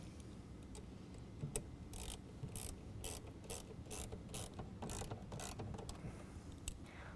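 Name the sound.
ratchet with 5/16 socket tightening intake filter clamp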